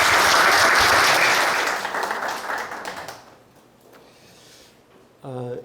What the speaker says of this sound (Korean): 앞으로 나오실 때 큰 박수 부탁드리겠습니다